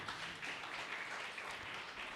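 A church congregation claps for Jesus during a Telugu Lent devotional service, a dense, even wash of many hands heard quietly and continuously throughout.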